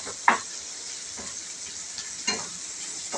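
Koyigura fish coated in turmeric frying in a pan gives a steady, bright sizzle, punctuated by a few soft stirring scrapes at close range, with no voices.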